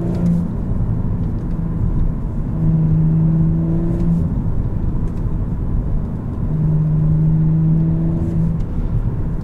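Engine of a 2018 Infiniti Q50 or 2018 Audi S4 in sport mode pulling through two strong acceleration runs, a loud close rumble with rising tonal notes as revs climb, heard alone without talk.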